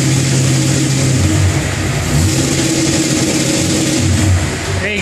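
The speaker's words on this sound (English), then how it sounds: "but I'll just give it a little rev." Car engine revved to around 2000 rpm, a loud, close, rising and falling mechanical roar that holds steady throughout, then drops back toward idle at the end.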